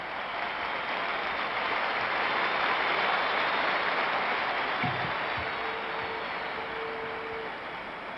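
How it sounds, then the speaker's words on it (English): A Madison Square Garden crowd applauds at the 1970 Knicks–Lakers basketball Game 7, a dense, steady wash of clapping that fills the arena for the whole stretch. "The applause for Baylor."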